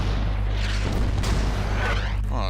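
Artillery barrage in the WW2 strategy game Order of Battle: WW2, a dense continuous rumble of booming shellfire with a steady low drone, loud and unbroken throughout.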